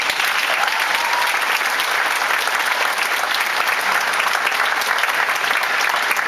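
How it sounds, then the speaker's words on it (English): A high school graduation crowd gives a sustained round of applause in memory of a deceased classmate and vice principal, dense, even clapping from a large audience that holds steady throughout. "Please have a round of applause for them."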